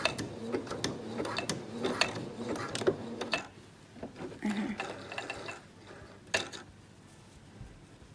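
A sewing machine back stitches fabric for a scrunchie, giving a quick rattling, ratcheting run of stitches that slows and stops, followed by quieter clicks and handling sounds, close and moderately soft.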